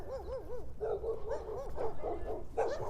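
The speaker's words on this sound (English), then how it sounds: "here come these dogs from last week" Several dogs bark and yelp nearby on a morning walk, a rapid run of wavering, high yips and short barks overlapping one another, fairly close and continuous.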